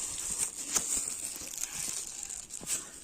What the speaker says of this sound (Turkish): Evet şimdi poşetliyoruz.